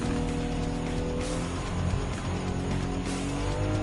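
Race cars in Gran Turismo 7 roar continuously with loud engine drone and hints of tire squeal as they battle on track, the sound dense and uninterrupted.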